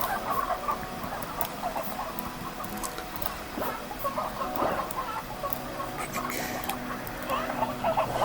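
Chickens cluck and patter on a ranch in Slime Rancher, a busy scatter of short bird calls over steady game ambience.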